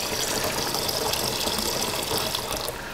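Water is poured into dry pottery glaze materials while a glaze is mixed from a recipe, making a steady, close gushing splash that runs for about three seconds.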